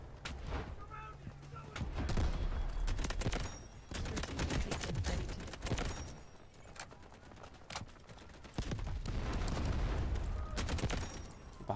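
Gunfire in the shooter video game Delta Force Hawk Ops, repeated bursts of rapid shots coming in several clusters, fairly quiet and mixed with a player talking.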